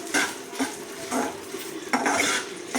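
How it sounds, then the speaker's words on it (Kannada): Chicken masala ingredients being fried in a pan, with four or five rhythmic scraping stirs of a metal spatula over a soft sizzle, close up. "ಎಲ್ಲ ಐಟಮ್ ಹಾಕ್ಬಿಟ್ಟು ಚೆನ್ನಾಗಿ ಫ್ರೈ ಮಾಡಬೇಕು"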